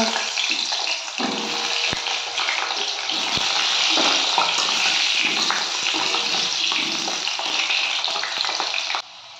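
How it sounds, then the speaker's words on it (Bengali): Potatoes sizzle and crackle in hot white oil in a pan, a dense, steady hiss that is close and loud throughout and cuts off abruptly near the end. "তেলটা গরম হয়ে গেছে, এবার আমি আলুগুলো ভেজে নেব।"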